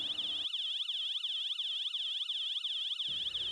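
A loud electronic alarm siren wails up and down in a rapid, steady rising-and-falling cycle, sounding close and continuous.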